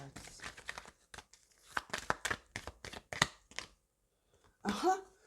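Moonology oracle cards being shuffled and handled, giving close, crisp crinkling and papery rustles in short bursts separated by brief quiet gaps.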